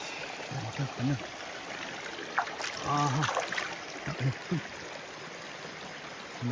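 A clear mountain stream flows steadily at a bathing spot near the Agasthyarkoodam trekking base camp, a constant rushing wash broken by a few splashes and voices nearby.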